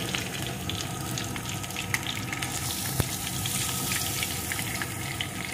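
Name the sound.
stirring vegetables and dal frying in oil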